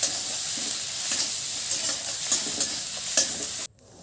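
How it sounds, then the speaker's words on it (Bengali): Egg bhujia fries and is stirred in a pan, a loud continuous sizzle broken by repeated scraping strokes of a spoon, then cut off abruptly near the end. "এবার এটাকে ভালো করে ভাজবো।"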